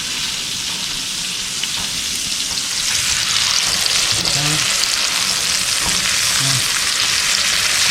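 A yellowfin tuna steak sears in a hot pan with a steady, loud broadband sizzle, and the hiss swells after the fish is flipped over midway.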